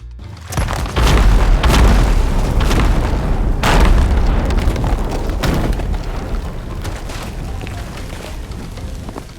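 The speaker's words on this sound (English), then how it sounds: "Athena megakegs create green explosions, which is pretty neat." A deep, loud blast from an Athena megakeg in the pirate game Sea of Thieves, a booming explosion that rumbles and rolls on for several seconds with crackling bursts before tapering off.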